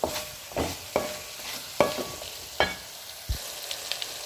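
A masala of chilli powder, ginger and garlic sautés in a pan for chicken curry, with a steady sizzle under a run of about six sharp spatula scrapes and stirs at roughly regular intervals, heard close, with no talking.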